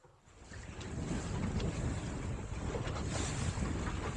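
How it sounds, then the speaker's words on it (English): Strong wind, around 15 to 20 knots, roars across the microphone aboard a SCAMP sailboat with two reefs in, a steady loud rush over water and waves that builds quickly and stays close and continuous. "it's blowing pretty good out here"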